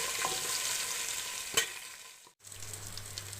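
Pieces of chicken fry in a pan of oil, giving a steady, close sizzle broken by one sharp stir or clatter partway through, a brief dip, then a low hum under the hiss as it resumes.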